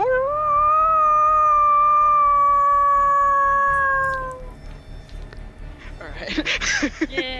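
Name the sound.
person imitating a howl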